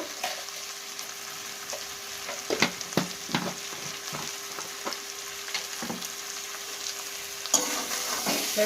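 Banana flower and prawns sizzle steadily in a hot pan, with scattered scraping knocks as the mixture is stirred.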